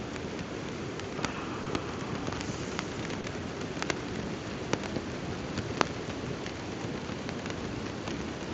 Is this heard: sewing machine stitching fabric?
no